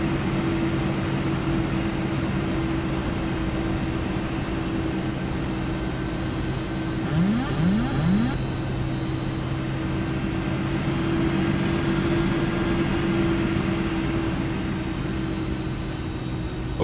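Boeing 757-200 engines in the X-Plane 11 flight simulator give a steady, loud hum with a tonal whine that holds throughout, along with brief faint chirps partway through, and no talk.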